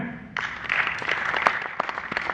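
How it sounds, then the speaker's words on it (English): A classroom of students clapping for their Arabic teacher, a brief ragged burst of hand claps starting abruptly and continuing close by, with scattered sharper individual claps. "Arabic teacher, please clap for him."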